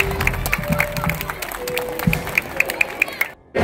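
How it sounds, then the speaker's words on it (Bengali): An audience at a club's award event on stage claps in a quick scattered burst of applause that thins out and stops abruptly near the end. "তাই সৃষ্টি ক্লাবের জন্য আপনারা আরো একবার হাততালি দেওয়ার অনুরোধ রাখবেন।"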